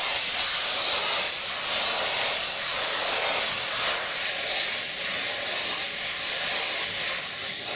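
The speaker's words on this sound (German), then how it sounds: "Lok 9 kommt von einer kurzen Erkundungstour zurück und setzt an unseren Zug." Steam locomotive No. 9 of the Furka mountain railway hissing loudly as it backs onto its train, a continuous close roaring steam release with faint rail noise and no talk.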